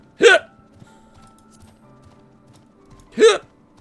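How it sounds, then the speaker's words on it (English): Two sharp, loud hiccups about three seconds apart, close and alone over faint background hum. "Good old hiccups."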